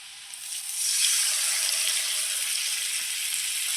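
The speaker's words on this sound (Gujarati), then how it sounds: "હવે નાખી દેવાની છે એમાં છાશ." Buttermilk hits hot tempering with chillies in a pan and erupts into a bright, steady sizzle that swells after a moment and holds, close and alone.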